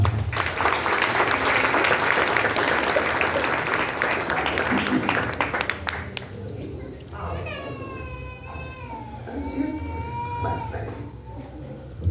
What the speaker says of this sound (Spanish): Hermanos, recibimos con fuerte aplauso al hermano.